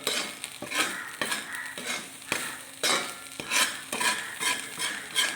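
Grated coconut roasts in coconut oil in a pan for a mackerel curry, with rhythmic scraping strokes of a spoon over a constant crackling sizzle, close and alone.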